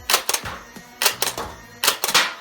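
Nerf foam darts striking an iron sheet at a target test, several sharp metallic clacks and rattles in quick bursts of two or three, close and fairly loud.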